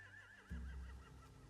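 A horse whinnies in The Walking Dead: The Final Season game, a wavering, rising-and-falling neigh over a low rumble, faint and brief.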